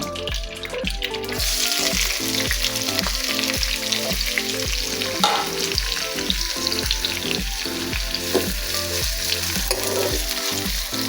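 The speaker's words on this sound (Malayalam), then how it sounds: "നമുക്കിത് നന്നായിട്ടൊന്ന് വയറ്റിയെടുക്കാം അത് നമ്മൾ പോർക്കിൻ്റെ നെയ്യിലാണ് കേട്ടോ" Onions, tomato and curry leaves sauté in pork fat for a pork fry, giving a loud, continuous sizzle and crackle with occasional stirring scrapes, close up and unbroken from start to finish.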